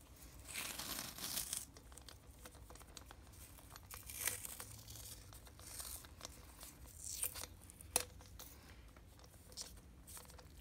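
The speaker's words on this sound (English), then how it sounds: "you're going to take your masking tape, or whatever tape you're going to use, and just seal it" Masking tape being torn and pressed down to seal a concrete ball mold, giving soft crinkling and ripping sounds in short bursts with a few sharper tears, fairly quiet and close, with no talk.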